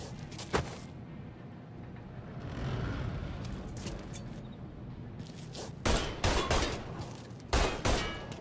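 Gunfire in the video game Mafia III: an isolated sharp shot, then a duller stretch of rumbling action, followed by a cluster of loud, close shots fired in quick succession near the end.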